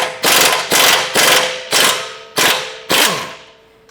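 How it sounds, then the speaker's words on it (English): A 22 mm wrench loosens a bolt on a Toyota Tacoma strut during a leveling kit install, producing six loud, evenly spaced metallic knocks or cranks, each ringing briefly, with the last fading out. "22 wrench on the other side"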